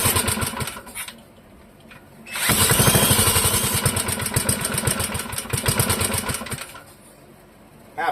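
A warm Clinton model 3100 small engine running on 2-cycle fuel with no choke sputters, then catches and runs loudly with rapid popping beats for about four seconds before dropping back to a rough, faltering idle.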